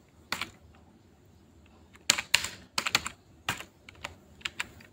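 Keys clack on a computer keyboard in short bursts of quick, crisp taps, close and fairly quiet, with brief pauses between groups.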